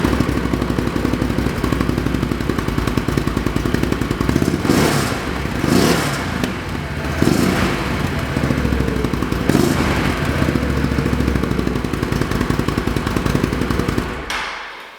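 A motorcycle engine with an SLG Sniper Performance Series exhaust and Dynojet PV3 tune idles with a rapid, crackling pulse, then revs sharply several times and settles back down.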